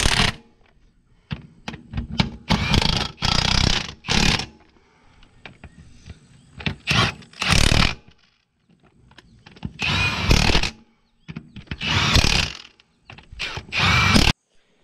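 A power tool, likely an impact wrench, loosens wheel bolts on an Allis Chalmers 5040 tractor during a brake repair. It sounds in repeated close, loud rattling bursts separated by pauses, with ratcheting clicks between them.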